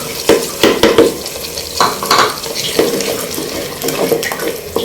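Tomato puree sizzling as it hits frying fish curry masala in a pan, with repeated sharp crackles and stirring scrapes in an uneven rhythm, loud and close with no talk.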